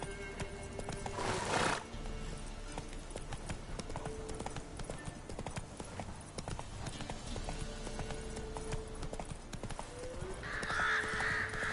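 Horse hooves clip-clop at a steady gallop in The Witcher 3 video game, with a whinny and game ambience layered over continuous rhythmic hoofbeats throughout.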